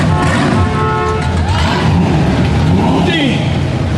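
Close, loud engine rumble from a Chevrolet Camaro SS in the Pearl Harbor Memorial Parade, with pitch rising and falling through several rev swells beneath an ongoing crowd and announcer din, people talking throughout.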